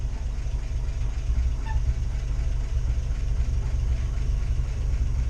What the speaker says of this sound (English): I probably don't need the motor on right now